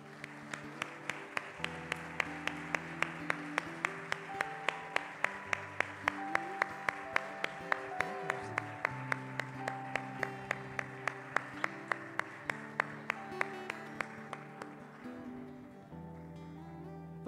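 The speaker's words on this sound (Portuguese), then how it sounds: "Louve o Senhor com as suas palmas." A church congregation claps steadily in rhythm alongside keyboard-led worship music, the sharp claps evenly spaced and sustained throughout.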